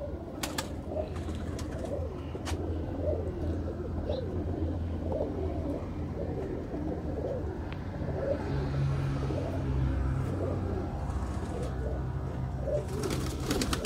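Red pigeons belonging to a Sialkot pigeon keeper coo softly and steadily nearby, their low, repeated calls layered over a constant outdoor rumble with occasional traffic in the distance.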